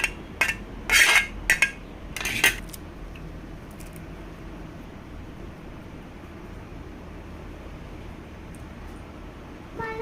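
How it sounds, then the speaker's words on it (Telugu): A spoon mixes rice flour and potato batter in a bowl, with a quick burst of sharp clinks and scrapes against the bowl in the first few seconds, then only a quiet, steady background. "ఇలా బియ్యం పిండి ఈ పొటాటో అయితే బాగా కలిసేలాగా కలుపుకోవాలి"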